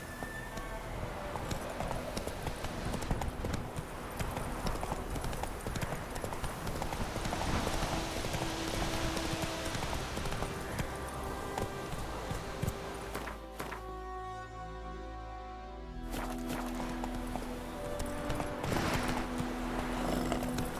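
Galloping horse hooves pound in The Witcher 3, a fast, dense drumming of clip-clops carried throughout at moderate level, with a brief dip in the middle and a possible faint whinny.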